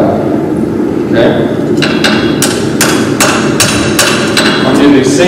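A hammer strikes metal in a workshop, about six sharp ringing blows in an even rhythm, loud and close over a low background murmur.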